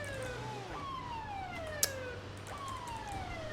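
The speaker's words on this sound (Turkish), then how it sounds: "Kardeşim şu sirenini bir kapatır mısın sen ya?" A police car siren wails in the GTA 5 video game, steady falling sweeps repeating on a constant hum of engine noise, at moderate level with no talking.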